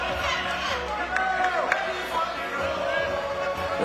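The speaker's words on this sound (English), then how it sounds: "they're getting some oohs and ahs from the crowd" Spectators at a FIBA 3x3 AmeriCup basketball game murmur and react with oohs, a steady crowd wash with a few brief sharper calls, mixed with commentary.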